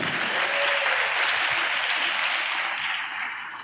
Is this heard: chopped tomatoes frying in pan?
no